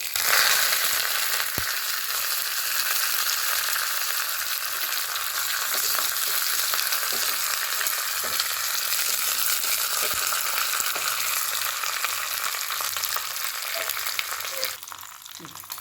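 Mustard seeds and curry leaves crackle and sizzle steadily in hot tempering oil for a Mysore dosa topping, a dense continuous frying hiss with scattered pops, close and fairly loud throughout.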